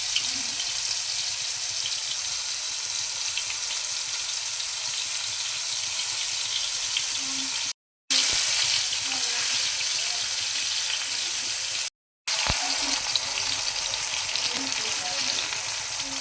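Bombay duck (bombil) fries on high gas in a pan, a steady loud crackling sizzle that runs on continuously, briefly cut by two short silent gaps, with no talk.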